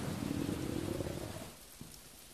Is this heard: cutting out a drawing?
no